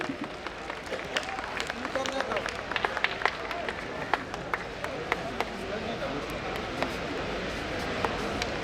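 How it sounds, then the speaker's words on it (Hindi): Applause from an audience at a Navratri festival on Rajendra Prasad Ghat in Varanasi, a steady dense patter of clapping lasting throughout, mixed with crowd murmur and some voices. "तालियां बजती रहें।"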